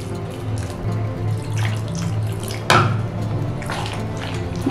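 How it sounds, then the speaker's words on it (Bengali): Water pours steadily into a thick flour and vegetable batter in a bowl, a continuous close splashing trickle with a brief sharper splash partway through, no voices. "তাই আমি আরো 1/2 কাপ জল দিয়ে দেবো।"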